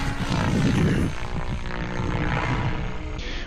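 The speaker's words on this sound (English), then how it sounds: "Now currently the rotors are zipping around anti-clockwise at about 290 RPM." Apache attack helicopter rotors turning at a steady hover pace in a DCS World flight simulation, a continuous dense rotor and engine drone that swells loudest early and then holds a steady, close-up level to the end.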